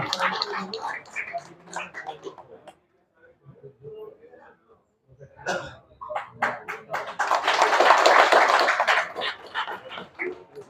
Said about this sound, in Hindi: इनके लिए जबरदस्त तालियां